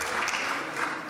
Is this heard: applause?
yes